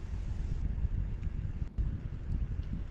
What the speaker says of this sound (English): Here's the wind.